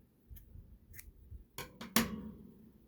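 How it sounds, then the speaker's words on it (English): Scissors snipping yarn during a crochet project, a few faint ticks followed by a sharp, close double snip, with the last cut the loudest, in a quiet room without talk. "we're going to go ahead and cut our yarn"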